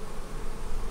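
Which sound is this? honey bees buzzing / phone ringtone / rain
honey bees buzzing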